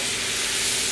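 Ginger and vegetables being stirred in a hot frying pan for a veggie stir-fry, giving a steady, close, even sizzle and hiss with no break and no voices.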